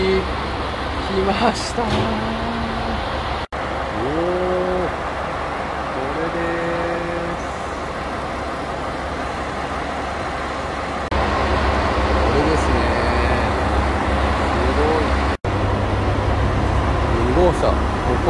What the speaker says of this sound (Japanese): もう気動車の音がします